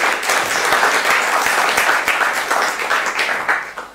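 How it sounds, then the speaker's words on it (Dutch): A live audience claps steadily for a speech at a Dutch gathering, a dense, even wash of many hands that holds at a fairly loud level throughout with no voices over it. "jij krijgt applaus"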